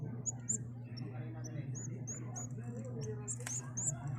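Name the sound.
young birds (chicks) chirping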